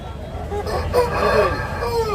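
A rooster crows nearby at a poultry market, a drawn-out call rising and falling over faint background noise and murmuring.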